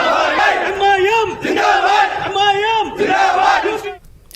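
Crowd of protesters at a rally in Telangana condemning an attack on Owaisi, chanting slogans in unison in loud, rhythmic bursts that repeat several times before cutting off.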